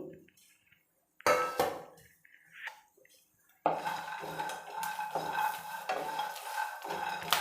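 Spices and peeled garlic dry roasted in a pan, with intermittent scraping and stirring clatter that settles into a steady, close crackling fry after a few quiet pauses.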